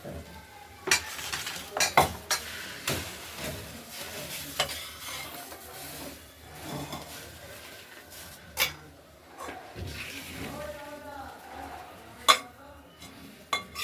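Chopped onion stalks fry in oil in a wok, giving a steady close sizzle broken by repeated sharp scrapes and clinks of a spatula stirring against the pan, with no talking.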